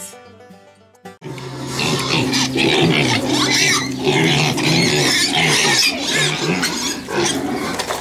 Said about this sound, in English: Means more than one. Pigs.